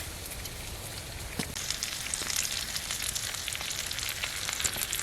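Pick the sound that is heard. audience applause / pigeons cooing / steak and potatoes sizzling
steak and potatoes sizzling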